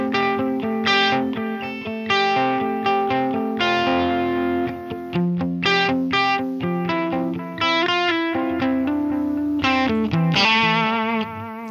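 Guitar run through a vintage digital delay model on a Line 6 Helix, played as continuous chords and notes with repeating echoes and a noisy, gritty wash behind them, loud and steady throughout.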